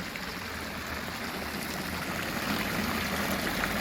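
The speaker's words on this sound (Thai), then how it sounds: "นี่น้ำพุน้อยไม่ใช่น้ำพุสี่" A small water fountain in a town splashes in a steady, continuous wash of falling water, fairly faint and unbroken.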